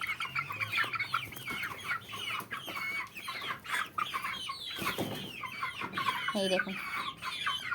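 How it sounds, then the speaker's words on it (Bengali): Chickens cluck repeatedly in their coop, a busy close chorus of short clucks and squawks, with someone speaking briefly over them. "ওই দেখুন ওই সাইডে মুরগি আছে"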